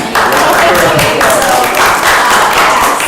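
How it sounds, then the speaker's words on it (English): A room of attendees at a ways and means committee meeting breaks into loud, sustained applause for a staff member, dense clapping filling the space with voices mixed in. "Round of applause for Carlene"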